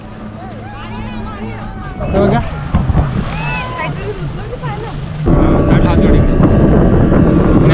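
A jet ski water bike ride at sea off Malvan, with wind buffeting the microphone and a motor and waves roaring louder toward the end while people talk and shout over it.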